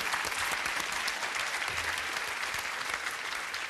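A game show studio audience bursts into steady, dense applause, loud and close, with no voices over it for the few seconds it lasts.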